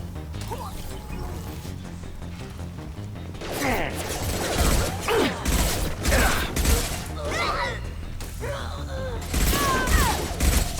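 Heavy combat gunfire in the video game Mass Effect 2, with a quieter opening giving way to rapid bursts of shots, crashes and mechanical clatter, loud and close, with game voices mixed in.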